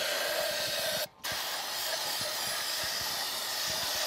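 Brake cleaner sprays from an aerosol can as a steady, loud continuous hiss, cut briefly by a short pause, while working on a Ford tractor's hydraulic system.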